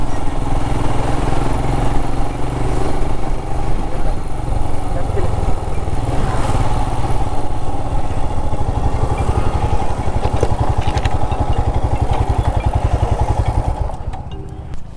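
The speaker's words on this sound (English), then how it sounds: "I'm pretty sure my exhaust is a lot louder than yesterday." A Royal Enfield Himalayan BS6 motorcycle's exhaust drones steadily and loudly throughout, a dense low rumble with wind roar, riding along with no break until it eases slightly at the end.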